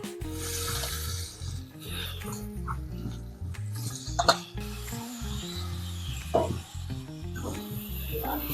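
Chopped mushrooms fry in a dhaba-style masala in a pan, with a steady sizzle and repeated rubbing scrapes of a spatula stirring, plus a couple of louder knocks, close and moderately loud.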